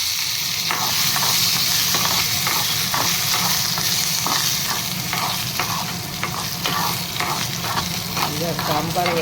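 Sambar spices are dry-roasted in a pan with curry leaves, producing a continuous loud hiss and sizzle broken by a rhythmic series of scraping stirs.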